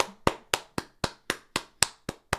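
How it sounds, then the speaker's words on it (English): Sharp claps ring out at a steady, even pace, nine distinct crisp hits in quick succession, close and clear with no voices. "Round of applause."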